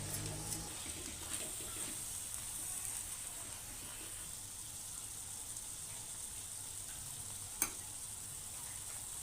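Peanut powder stirred into dry-style safflower greens (kardai bhaji) sizzling in a pan, a steady soft frying hiss with faint stirring scrapes and one brief clink near the end, no talking.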